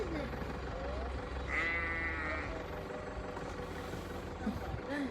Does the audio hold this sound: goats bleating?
yes